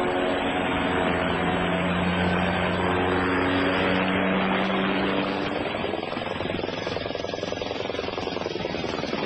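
US Army Black Hawk helicopter flying a demonstration display, a loud, steady rotor and turbine roar with droning tonal hum that shifts in pitch as the aircraft maneuvers, close and continuous with no talk.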